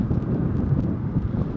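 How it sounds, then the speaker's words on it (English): Strong wind buffeting the microphone outdoors at the Painted Desert Inn in Petrified Forest National Park, a loud, continuous low rumble with gusty fluctuations and no talk. "It's too windy, it's so windy."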